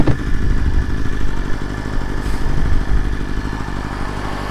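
A BMW S1000RR sport bike is ridden in cold weather, its engine droning loud and steady at close range with a rough clatter and some wind rush and no talking.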